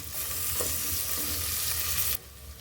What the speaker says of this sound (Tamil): இப்போ தக்காளி சேர்த்துக்கிறேன்.